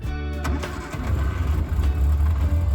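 An old barn-find Morris woody car cranks and catches, its engine sputtering to life and then settling into a rough, low, pulsing idle close by, with no talk.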